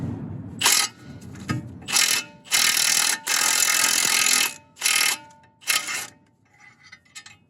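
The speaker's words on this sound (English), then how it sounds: "And then we'll try to, again, crack it loose with our impact." An impact wrench breaks loose a nut on a VW Mk4 wheel bearing job, firing about six loud hammering bursts of varying length, some short and one long sustained run, close up with quiet gaps between.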